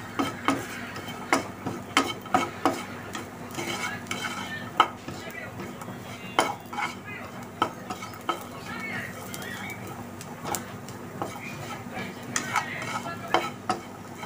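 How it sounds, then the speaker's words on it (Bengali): A spoon stirs fried grated coconut with sugar in a pan, producing steady repeated scrapes and clicks against the metal over a soft sizzle. The sound is close and even, with no talking. "এবারে এটাকে একটু নেড়ে দেবো, চিনিটা গলে গিয়ে এবার এর সঙ্গে মিশে যাবে"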